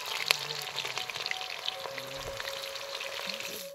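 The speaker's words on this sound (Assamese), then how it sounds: "পিঁয়াজ চলি আছে" Onions frying in a pan during home cooking of meat, heard as a soft, continuous sizzle with light crackles, fairly faint and steady.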